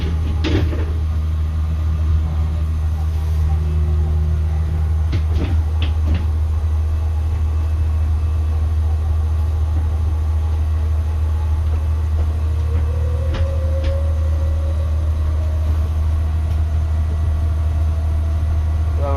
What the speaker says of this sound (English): Sounds very nice, this engine.